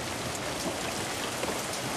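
Summer rain falls steadily on surfaces in a dense, even hiss of drops. It is fairly quiet and unbroken, with no voices.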